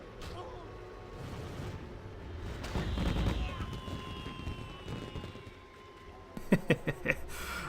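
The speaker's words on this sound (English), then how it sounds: "I love me fireworks." Fireworks go off in the H1Z1 video game: a rumbling, crackling burst swells and fades, followed by a quick cluster of sharp pops near the end.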